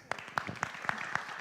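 Audience applause for conference panelists at the close of a plenary on global cooperation, a sparse, moderately distant patter of claps with a few sharper individual hits, steady and unbroken for a second and a half.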